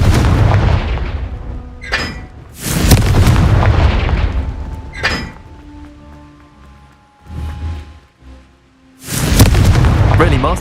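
Confringo blast spells go off in Hogwarts Legacy as several loud, booming explosions spaced a few seconds apart, each with a roaring tail, while voices speak between them.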